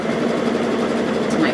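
A sewing machine runs in a short, steady mechanical hum as it stitches across flannel rag quilt fabric, close and fairly loud.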